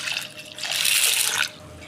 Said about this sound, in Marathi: 2 ते 3 पाण्याने हरभरा डाळ स्वच्छ धुवून घ्यायची आहे.